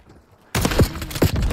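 Video game shotgun blasts, a loud rapid burst of booming shots that starts abruptly after a quiet moment, close and dense.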